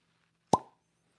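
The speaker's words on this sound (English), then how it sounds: "Not bad cork pop." A heavy cork pops out of a wine bottle, a single sharp, close plop with a short ringing tail, otherwise quiet.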